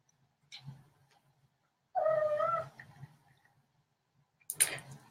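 A pet cat gives one clear, short meow, fairly close in an otherwise quiet room, with a few faint soft knocks before it and a brief rustle after.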